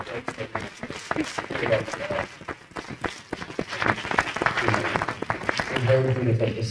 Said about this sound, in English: Let's give a round of applause for Rinchen.